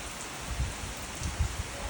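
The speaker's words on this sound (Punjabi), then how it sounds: "ਲੋ ਜੀ ਮੀਂਹ ਦੇਖੋ ਕਿੰਨਾ ਆਈ ਜਾਂਦਾ" Rain falls steadily, a soft even patter with a few heavier drops landing close by.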